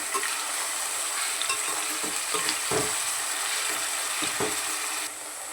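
Mutton keema fries in oil in a pan, its steady sizzle punctuated by several scraping strokes as it is stirred by hand, close up and without any talking.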